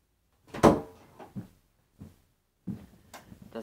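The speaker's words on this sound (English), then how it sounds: "I'm gonna close my door so I can speak up." A bedroom door being closed, with a sharp knock of the door shutting followed by a few softer clicks and bumps of the latch and handle, close and fairly quiet.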